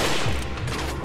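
Gunfire in the Resident Evil 4 video game, a brief, dense burst of rapid shots that is loud and continuous with no talk.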